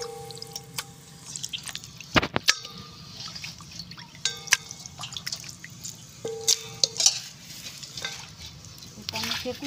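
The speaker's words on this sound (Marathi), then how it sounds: "चिकन धुवून घ्यायचं आहे आपल्याला" Raw chicken pieces being washed by hand in a bowl of water for a dry chicken fry, with wet splashes, drips and sharp clinks of pieces knocking the container at irregular intervals, close by.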